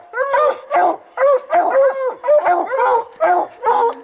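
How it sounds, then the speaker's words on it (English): Hunting hounds bay at a treed bobcat in Colorado, sounding a steady run of loud, close barks and howling yelps that repeat about twice a second. "This is that Boomer dog. He's waking it up now."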